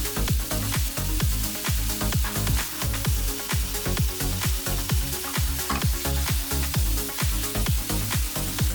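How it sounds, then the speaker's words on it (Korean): Pork belly, leek and mushrooms sizzling with a splash of soy sauce in a hot pan, a steady loud crackle with regular stirring scrapes throughout. "간장 1테이블스푼을 넣고 팬을 기울여 간장을 조금 태워줍니다"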